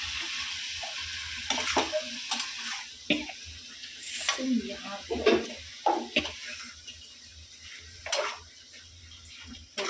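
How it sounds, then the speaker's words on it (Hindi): Soybeans frying in a pan give a soft, steady sizzle, broken by stirring scrapes and clinks of the pan, close but fairly quiet, with some background voice. "देखो गाइस सोयाबीन तड़प रहे हैं, देखो उनकी आवाज सुन"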